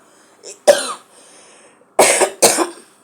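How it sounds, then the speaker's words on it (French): Three sharp coughs close to the mic, one then a pause, then two more in quick succession, with a short throat sound before them. "Excuse-moi, j'ai la toux."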